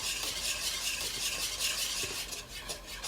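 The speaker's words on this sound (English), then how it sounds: "now I'm gonna get my cheese sauce in, stir it up, give it a good stir." A spoon stirs cheese sauce through macaroni in a pan with a steady, close wet scraping and soft sizzle, continuous and without talk.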